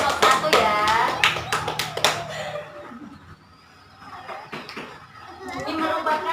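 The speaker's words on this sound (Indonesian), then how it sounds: "tepuk tangan buat kelompok 1 ya" A class of fifth-grade children clapping for the first group; a burst of hand claps with kids' voices over it for about two seconds, then quieter chatter, then the voices and claps pick up again.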